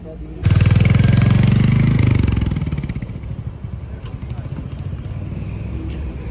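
A Royal Enfield Hunter motorcycle starts up for a test drive, its engine roaring loud and close for a couple of seconds, then settling into a steady, rumbling putter that continues to the end.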